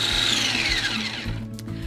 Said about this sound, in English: I've used my food processor to grind my vanilla wafers